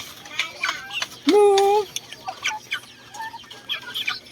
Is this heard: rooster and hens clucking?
yes